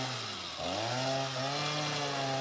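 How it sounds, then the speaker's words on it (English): A chainsaw running: a loud, steady engine drone that revs up in pitch partway through and then holds at a high, buzzing whine. "Let it chainsaw a while."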